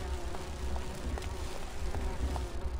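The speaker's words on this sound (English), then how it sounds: "They're like flies or bees." Flies or bees buzz in a steady, low hum in a town scene from the video game Grim Fandango. The droning sits under a faint ambient bed, with soft periodic ticks running through it.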